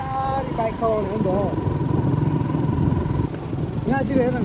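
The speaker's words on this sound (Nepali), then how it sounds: "बिस्तारी बाइक चलाउने हो नि त" A motorbike rolls along slowly on an evening ride, its low steady engine rumble running throughout beneath people talking close by.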